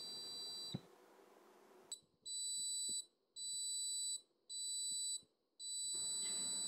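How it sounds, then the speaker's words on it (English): A small buzzer on an infrared proximity sensor breadboard circuit sounds a steady high-pitched tone, then cuts on and off in four long beeps with brief gaps between them. Faint clicks from handling are heard, with no talking. "The output is connected to a LED and a buzzer to show the change in output voltage when proximity is detected."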